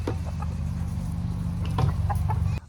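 Several chickens cluck and murmur steadily in a farm coop, a dense low chorus of close, continuous fowl sounds with a few sharper calls poking through, with no talking.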